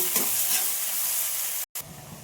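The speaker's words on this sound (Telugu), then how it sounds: "ఆనియన్స్ కూడా ఎర్రగా వచ్చేలా వేసుకోవాలా" Onions fry in hot oil until they redden for an egg curry, a loud, steady, close sizzle with stirring, broken only by a split-second gap.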